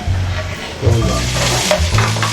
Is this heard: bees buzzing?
no